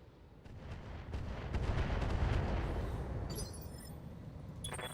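Weapons fire in a BattleTech game, heard as a deep, rolling boom that swells to a loud roar, then fades into a rumble with a few faint crackles near the end.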